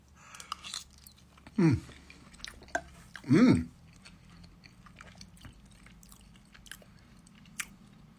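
Someone eats hot mushroom-filled pasta topped with cheese. Two loud, close bursts of chewing stand out, with faint mouth noises and quiet gaps in between and no talking.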